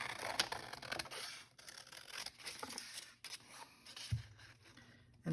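Quiet, close snips of scissors trimming paper, a few short cuts with light scraping and rustling between them.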